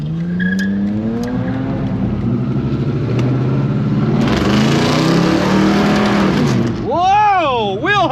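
A car accelerating hard with wheel hop, its engine loud and close as it revs and climbs in pitch, with rough tire and drivetrain noise. Excited voices shout over it toward the end.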